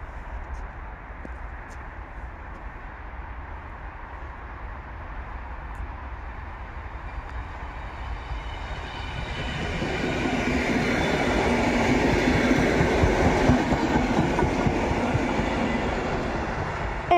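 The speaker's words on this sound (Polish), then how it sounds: "Mamy no pociąg kolei śląskich" A Koleje Śląskie (Silesian Railways) passenger train rumbles past on the rails near Katowice Zawodzie in winter, building from a distant hum into a louder, rhythmic clatter of wheels that stays steady toward the end.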